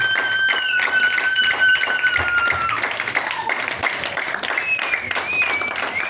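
A church congregation stands and applauds during French-language worship, steady continuous clapping filling the room under singing and voices.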